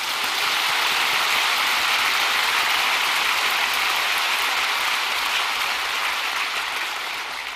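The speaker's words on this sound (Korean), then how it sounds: "그러므로 우리 하나님께 한 박수를 치십시오." A church congregation during a sermon breaks into steady, dense applause, a loud wash of clapping that holds evenly throughout with no talking.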